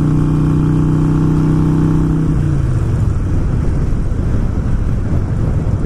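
A Harley-Davidson motorcycle engine on a Screamin Eagle Pro Tuner run holds a steady humming idle, then revs up into a louder, rougher roar that stays close and continuous.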